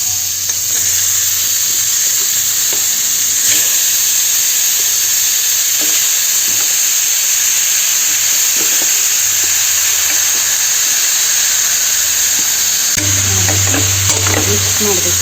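Pieces of chicken fry in a pan, a steady loud sizzle and hiss under occasional scraping as they are stirred, with brief low bursts of talk.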